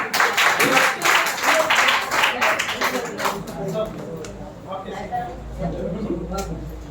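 An audience at an International Women's Day ceremony breaks into loud applause that gradually thins out, while a voice speaks over the fading clapping.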